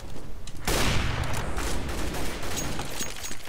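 Dense video-game gunfire bursts into a loud, sustained rattle of rapid shots that keeps going close and unbroken, with no talking over it.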